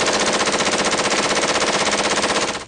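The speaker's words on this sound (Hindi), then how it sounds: "गोलियों का ऐसा शोर कि सुनने वालों की रूह कांप उठे।" Rapid, continuous automatic gunfire rattles in one long loud burst, evenly pulsed, fading slightly at the end.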